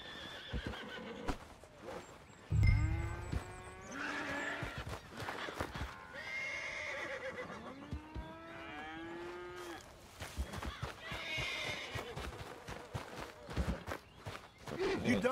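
Horses neigh and whinny in Red Dead Redemption 2 on a frontier ranch, with clip-clop of hooves and occasional game dialogue mixed in; several loud, drawn-out whinnies rise and fall close by.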